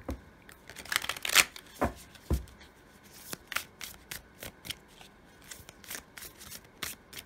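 A Dark Mansion Tarot deck being shuffled by hand, close and fairly quiet, with rapid riffling bursts and soft papery slaps in an uneven rhythm.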